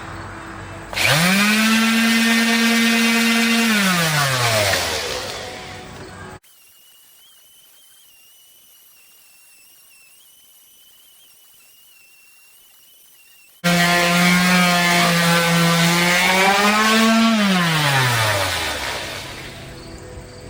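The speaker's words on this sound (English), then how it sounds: "you line up the holes with the palm sander" Palm sander with 120-grit paper running on a wooden bowl, a loud steady electric whine that rises and falls in pitch, in two long bursts separated by a quiet pause.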